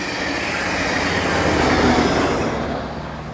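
A train arriving from the south passes close by, a loud sustained rumble and roar of rail cars that swells toward the middle and then eases slightly, with no voices over it.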